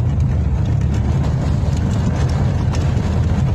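Low, steady engine rumble of a car driving along an unpaved, stabilized mountain road, loud and continuous with gritty tire noise and some wind buffeting.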